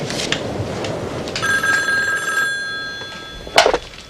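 An old-style telephone bell rings once with a bright metallic trill lasting about a second, heard indoors in a TV drama scene, followed by a brief clatter near the end.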